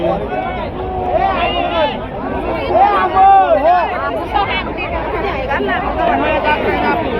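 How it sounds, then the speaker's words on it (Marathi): Dense crowd of pilgrims packed together at the Saptashrungi temple hill in Vani, a loud continuous babble of many voices close around, with individual people talking and calling out over it. "हे बघा एवढी गर्दी आहे"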